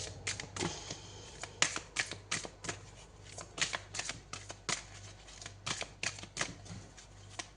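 Tarot cards are shuffled close by in quick, uneven bursts of soft riffling and slapping, with short pauses between handfuls in a quiet room.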